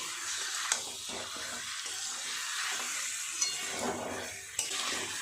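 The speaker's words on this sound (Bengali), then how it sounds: "বেশ কিছুক্ষণ সময় নিয়ে এইভাবে চিকেনের সাথে মশলাটাকে মিশিয়ে নিতে হবে।" Chicken pieces stirred with spice masala in a pan while frying for chicken kanti, a steady close sizzle broken by scraping spoon strokes and a few sharp clinks of metal on the pan, no talking.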